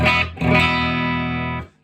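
A sustained electric guitar chord rings out after a quick strum, with a slightly gritty, lightly overdriven tone from the bridge pickup with volume turned down slightly, fading at the end.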